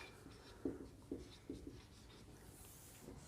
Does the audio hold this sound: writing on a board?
yes